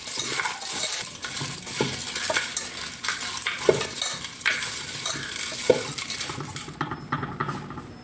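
A chicken mixture seasoned with pepper powder is stirred in a pan, with repeated scraping and clinking of a spoon over a constant sizzle, close and fairly loud, and no one speaking.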